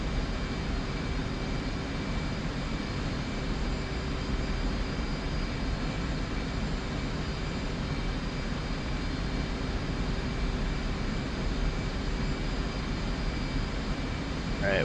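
The steady, dense roar of an F/A-18 jet in flight inside the DCS World flight simulator, broadband engine and wind noise holding constant at moderate level with no voices.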